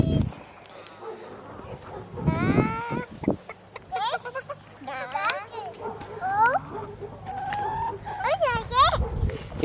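Chickens on a farm clucking and squawking while being fed, several bird calls scattered close by, mixed with a young child and an adult talking over them.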